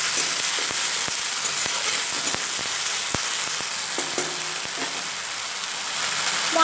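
Cumin, ginger and green chilli paste frying in hot oil, a loud, steady, close sizzle with faint crackles and occasional sharp pops throughout.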